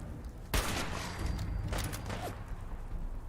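Gunfire in a Fallout game: a sharp shot cracks out, followed by a few fainter scattered shots and mechanical clatter amid low ambient rumble.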